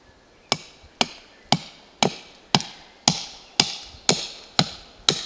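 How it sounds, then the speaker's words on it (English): A knife shapes a piece of wood into a bow drill hearth board outdoors, with about ten sharp, evenly spaced strikes, each ringing out briefly before the next. "I will use this piece of wood to make the hearth board by making two parallel surfaces on it with my knife"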